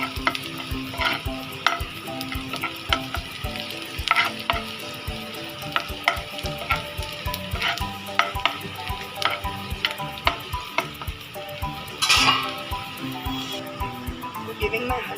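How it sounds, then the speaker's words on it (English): Garlic lightly frying in a pan, giving a steady close crackle peppered with sharp pops and scattered spatters, with a brief louder flare of sizzling near the end; no one speaks. "I'm going to fry the garlic. Just light fry."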